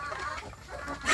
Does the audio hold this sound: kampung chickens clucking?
yes